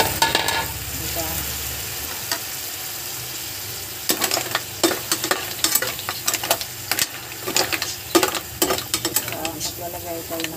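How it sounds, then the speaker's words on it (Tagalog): Onion and tomato sauté with mussels in a pan, giving a steady sizzle close up, broken later by sharp clacks of a utensil stirring and scraping against the pan. "Nagigisa na tayo ng sibuyas, kamatis dahil iluluto natin ang ating tahong."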